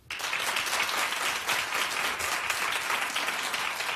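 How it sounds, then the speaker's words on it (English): Steady applause from a TV studio audience at The Wendy Williams Show, dense clapping that holds at an even level throughout without pauses. "well, clap if you did."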